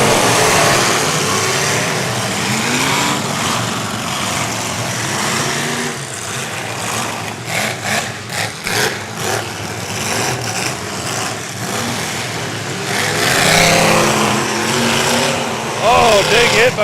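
Demolition derby car engines roar loud and close at a 2023 event, a dense continuous rumble with rapid revving pulses in the middle and talk running over the top.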